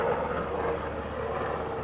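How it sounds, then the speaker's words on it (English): A Black Hawk helicopter passes overhead on an Alaskan summer day, a steady loud rumbling engine and rotor drone filling the scene throughout without speech. "a freaking Black Hawk helicopter decides to fly by"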